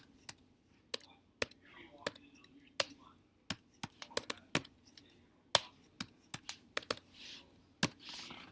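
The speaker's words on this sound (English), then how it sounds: "So I just type my data into these columns." Data being typed on a computer keyboard into spreadsheet columns: quiet, close key clicks, sparse at first and then quicker, uneven clusters of taps.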